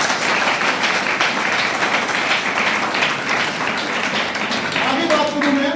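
An audience at an AWPL business plan seminar claps loudly, dense continuous applause filling the hall for several seconds without a break.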